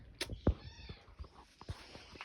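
Small kittens give a few short, high meows close by, one sharper cry standing out early and softer mews scattered after it, with quiet rustling between.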